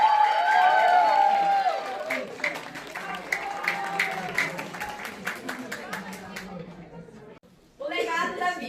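An audience claps along at a poetry recitation event, quick rhythmic clapping under a voice, fading and stopping briefly before sound resumes.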